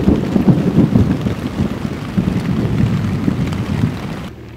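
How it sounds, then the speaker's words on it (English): Steady rain falling at a beach campsite on Ubin island, a dense broadband hiss with low rumbling wind gusts throughout, continuous and fairly loud, cutting off abruptly near the end. "So the rain is stopping, maybe we can have a campfire this evening."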